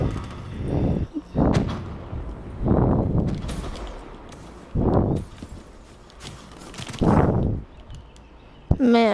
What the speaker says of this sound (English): I'm shooting everybody.